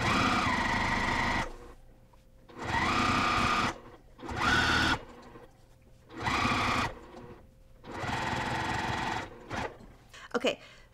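A sewing machine stitches binding onto a cross stitch pillow in five bursts of steady whirring, each a second or two long and separated by short pauses, with a few clicks at the end.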